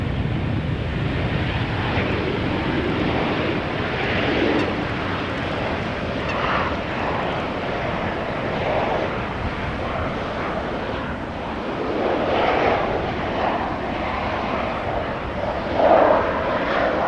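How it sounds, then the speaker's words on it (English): An airliner arriving at Amsterdam Schiphol Airport from Frankfurt gives a steady, broad engine roar with wind buffeting that holds throughout and swells slightly near the end, with no voices. "The airplane is now behind the building. Should appear pretty soon. Arriving from Frankfurt"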